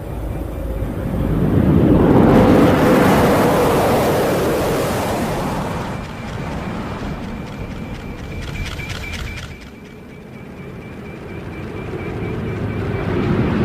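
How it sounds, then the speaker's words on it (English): A NASA space shuttle glides in to land with no engines running, bringing a loud, broad rush of wind and airflow that swells, eases off, dips briefly, then builds again, with no voices. "Now let's take a look at NASA's glider landing, and pay particular attention to the sound of non-existent jet engines powering down after landing."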